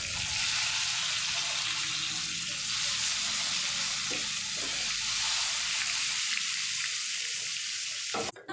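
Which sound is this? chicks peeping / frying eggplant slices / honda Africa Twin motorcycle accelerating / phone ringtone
frying eggplant slices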